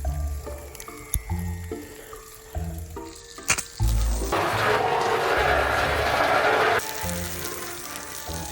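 Water from a hose sprays against a van window in a steady hiss lasting a few seconds, after scattered knocks and handling noises, close by and fairly loud.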